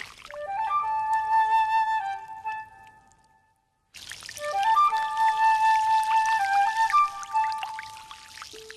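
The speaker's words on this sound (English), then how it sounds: "Felisberto Forte opens the water gate of the main basin that feeds the entire salt garden." Seawater pours through an opened sluice gate into the main basin of a salt garden, a steady close trickle and splash with bright tonal ringing, briefly stopping before resuming.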